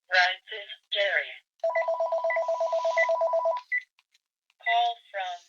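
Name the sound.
phone ringing with an incoming call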